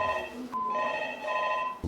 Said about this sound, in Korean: 교무실에는 불안한 학부모들의 문의 전화가 하루 종일 빗발쳤습니다.